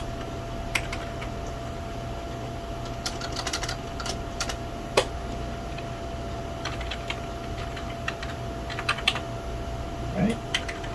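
Commands are typed on a computer keyboard while installing an operating system, with irregular clusters of sharp key clicks and a few heavier key presses over a steady background hum, faint talk in the background.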